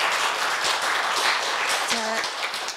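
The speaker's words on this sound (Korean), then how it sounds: "다시 한번 박수 부탁드립니다" An audience at a university health forum on prostate cancer claps steadily after a professor's lecture, a dense sustained round of applause with a brief voice breaking through near the end.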